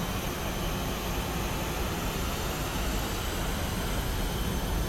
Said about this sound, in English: you can hear the jet efflux starts to roar a little bit